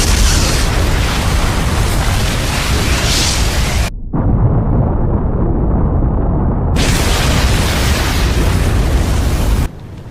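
Four orbs blow up at once in an anime battle scene, producing a loud, continuous roaring blast with deep rumble that cuts off abruptly partway through, then resumes and fades to a lower roar.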